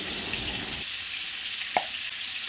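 Pointed gourd (potol) frying in oil in a home kitchen, giving a steady broadband sizzle with a small splashy pop partway through, close and moderately loud with no talking.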